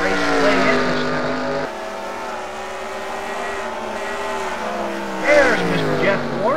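Stock cars, including a Buick, racing in a heat race at Bristol, a steady loud roar of engines with a car surging past near the end.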